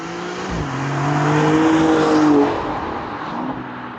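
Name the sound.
Maserati Grecale Trofeo 2024 SUV engine, driving off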